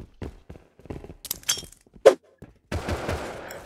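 Gunfire in the Rust video game, heard as a few scattered sharp shots and thuds followed by a burst of noisy rapid fire, moderately loud with no talk.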